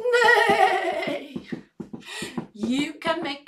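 A voice imitates a horse's neigh with a long, wavering whinny in a primary school music activity, followed by bursts of sung and spoken phrases from the same voice.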